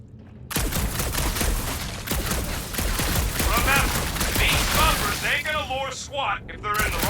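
Rapid bursts of gunfire crackle through a sci-fi firefight in the Guardians of the Galaxy video game, dense and continuous, with loud impacts under game music and characters talking.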